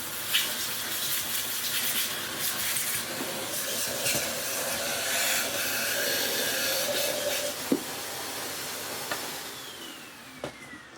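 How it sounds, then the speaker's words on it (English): A vacuum cleaner runs continuously up close, cleaning a removed vacuum filter, its noisy airflow rushing and rattling with occasional clicks and knocks as it sucks at it. "We're just going to take off its filter, give it a good vacuum off"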